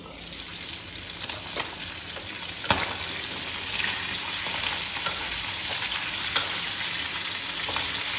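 Freshly bought tangra fish sizzles steadily in hot oil in a pan for Bengali tangra fish curry with brinjal and bori, with a constant crackling hiss and a few sharp pops and stirring clicks, close and with no voices.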